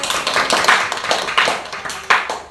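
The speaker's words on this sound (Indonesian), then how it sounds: "Tepuk tangan dulu buat Jeffrey." A small group of students claps in a classroom during a group counselling session, producing a sparse, uneven patter of hand claps with a few sharper individual claps standing out.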